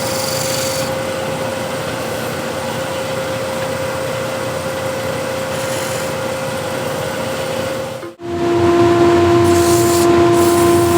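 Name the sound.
shear scraper working a wooden hexagon plate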